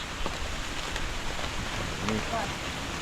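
Heavy rain falls in Da Nang, Vietnam, near marble mountains, making a steady, dense hiss throughout with a few faint, indistinct voices mixed in.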